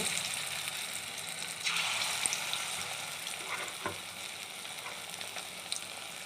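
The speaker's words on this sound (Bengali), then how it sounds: "আমি এখানে ছোটো ছোটো করে বড়া ভেজে নেব" Small potato-and-egg fritters frying in hot oil in a wok give a steady, close sizzle throughout, swelling briefly as more batter goes in, with a few soft scrapes and clicks of a utensil.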